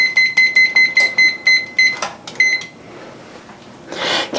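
A kitchen timer set for baking a keto faux potatoes au gratin beeps loudly in a quick, even run, then gives a few scattered beeps followed by soft kitchen clatter.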